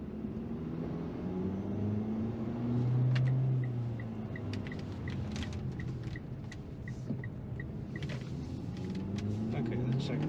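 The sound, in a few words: 2022 Mitsubishi Eclipse Cross SUV accelerating in manual mode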